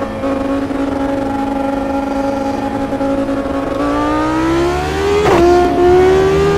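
A V10 Formula 1 car engine in a racing simulator game on cold tyres holds a steady, high buzzing drone, then climbs in pitch as it revs up, with a sharp click near the end.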